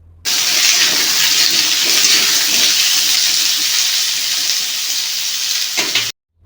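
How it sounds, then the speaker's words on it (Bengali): Cut pumpkin pieces fry in hot oil in a pan, giving a steady, loud, dense sizzle that runs unbroken for about six seconds and then stops abruptly. "আবারও ওই একই তেলের মধ্যে কেটে রাখা কুমড়োগুলোকে দিয়ে ভালো করে ভেজে নিতে"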